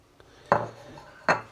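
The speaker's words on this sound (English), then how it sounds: "So all the vegetables, celery, potatoes, and carrots, they go in now." Chopped celery, potatoes and carrots tipped into a beef stew pot: two distinct knocking clunks against the pot in a quiet kitchen, with no talk.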